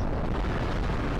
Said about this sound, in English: It's a proper anime style missile spam sort of a thing.